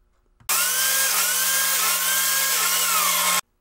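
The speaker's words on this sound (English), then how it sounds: "I use my biscuit joiner to cut slots to hold number 20 biscuits" A power biscuit joiner spins up and cuts slots into wood for number 20 biscuits, giving a loud, steady high whine with a low hum that starts abruptly and stops about three seconds later.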